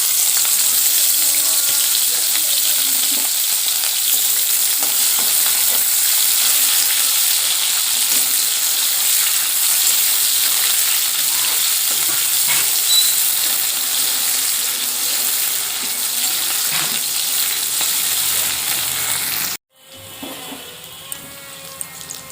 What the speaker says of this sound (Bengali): শাক ভাজার জন্য তেলের ওপরে দেব রসুন আর কাঁচা লঙ্কা ফোড়ন।